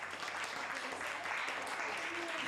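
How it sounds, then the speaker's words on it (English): Audience applause for a panel at the 2023 Intellectual Disability Forum: a faint, distant wash of clapping, even and continuous, heard low in level across the short stretch. "Please give them a round of applause."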